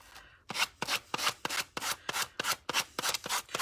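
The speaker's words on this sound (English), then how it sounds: "A bit of sandpaper again." Sandpaper rubs back and forth along the edge of a rice paper coaster in a quick, even series of about a dozen close scratchy strokes, with no talking.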